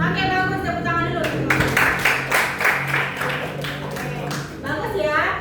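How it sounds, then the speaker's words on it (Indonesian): Brief burst of applause from students in a classroom, a couple of seconds of clapping in the middle, with a teacher's voice talking before and after it. "Oke, bagus, tepuk tangan dulu."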